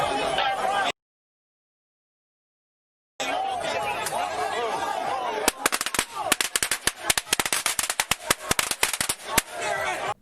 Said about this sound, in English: they even threw a lit firework at our officer.